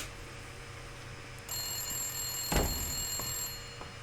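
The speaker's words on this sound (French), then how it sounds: "ils auraient pu mettre le téléphone à sonner au moment où c'est fini" Telephone ringing in the detective video game Blacksad, a bright electronic bell tone that starts partway in over a low background hum and is briefly interrupted by a sharp thud.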